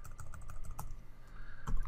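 Database details are typed quickly on a computer keyboard, a close run of light, irregular key clicks with brief pauses, heard alone without speech.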